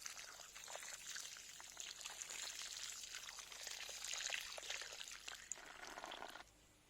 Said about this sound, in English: I am watering the plant.